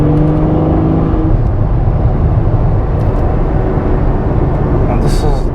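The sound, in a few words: Ferrari F12 Berlinetta engine in race mode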